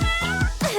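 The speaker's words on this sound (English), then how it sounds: "A kitty." A kitten meows several times in quick succession, close and clear, with short rising-and-falling cries filling the brief moment.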